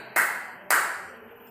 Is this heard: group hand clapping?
yes